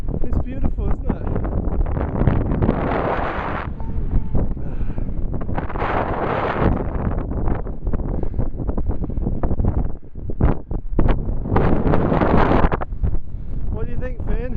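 Strong gusting wind buffets the microphone on a seaside cliff at Strandhill, a continuous roaring rumble that swells and dips while people talk over it.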